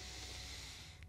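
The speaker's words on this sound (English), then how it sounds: "now we're gonna go long inhales through the nose." A long, steady inhale drawn through the nose during guided somatic breathwork, a close, soft and continuous airy hiss with no talking over it.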